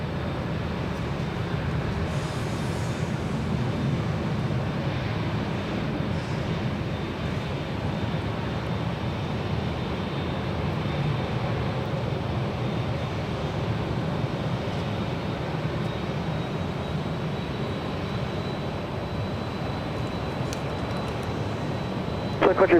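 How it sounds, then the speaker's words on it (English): SAS Scandinavian Airbus A350 airliner taking off at LAX, a continuous low jet engine roar, steady and fairly distant, holding level throughout without talk. "the SAS Scandinavian A350 heading back to Copenhagen"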